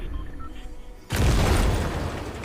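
A grenade detonates in Fortnite, a sudden loud, deep boom that breaks in after a quieter stretch and rolls on as a sustained rumble to the end.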